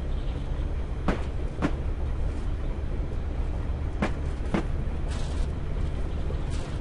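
Constant low rumble of a moving train in the video game Train Simulator 2013 on the Isle of Wight route, with a few sharp clicks at irregular intervals, loud and steady throughout.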